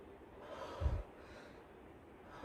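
A person with chest pain and heavy lungs from a virus demonstrates labored breathing: a single quiet, effortful breath with a short rasping catch in the middle, close and soft against near silence.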